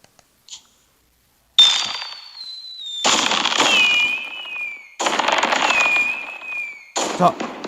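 After a brief quiet start, four fireworks bursts follow in succession, each a whistle trailing into thick crackling, loud and close, from a fireworks display made by a science teacher.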